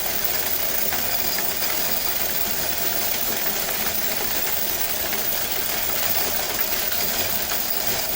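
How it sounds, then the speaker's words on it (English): A coin change counter at a laundromat runs while sorting quarters, giving a continuous, loud mechanical whir and rattle that holds steady throughout. "I'm thankful for a change machine, a change counter that works pretty good"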